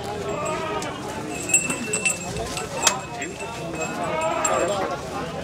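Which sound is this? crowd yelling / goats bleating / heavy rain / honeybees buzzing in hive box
goats bleating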